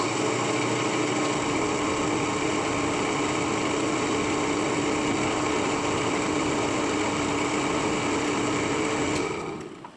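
A lathe in a workshop cutting a 9 threads per inch thread with lubricant, heard as a continuous steady machine whine and hum with a constant tone that cuts off abruptly at the end; no talking.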